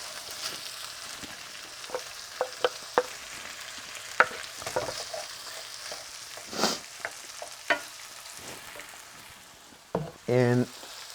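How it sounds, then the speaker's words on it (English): Kidney pieces for Persian jaghoor baghoor sauté in a hot pan, giving a low continuous sizzle with scattered sharp clicks and spatters, and a brief louder clatter near the end. "while the kidney is sauteing and cooking"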